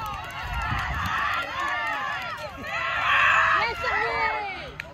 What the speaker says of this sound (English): A lot of screeching going on.